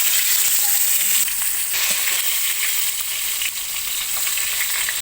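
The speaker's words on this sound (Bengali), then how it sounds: "রুই মাছগুলো হলুদ লবণ দিয়ে মাখিয়ে রেখেছি, এখন আমি তেলে ভেজে নিব।" Pieces of rohu fish, rubbed with turmeric and salt, sizzle loudly and steadily in hot oil in a wok, a constant close frying hiss with faint stirring clinks.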